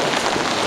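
Heavy rain pours steadily during extreme weather in Oslo, Norway, a dense, continuous hiss of drops on surfaces, close and loud with no voices.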